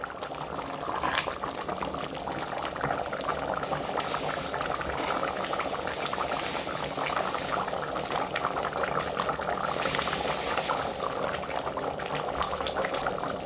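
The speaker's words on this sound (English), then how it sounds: "Now I'm putting my peas." Frozen peas, not pre-boiled, go into a pot of boiling potato stew on a vegetarian peas-and-potato dish. A steady bubbling simmer carries on with soft splashes and liquid churn, fairly quiet and continuous throughout.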